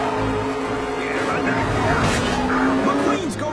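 Animated race cars charge through the final lap of a stock-car race, with roaring engines and a sharp tire squeal sweeping past up close, and voices underneath.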